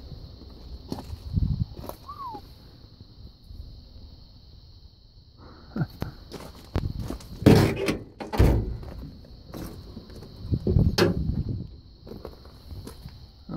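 Doors of an early 1970s Cadillac Fleetwood hearse open and close with several heavy thunks and clunks near the middle and later on, between footsteps and quieter handling noises.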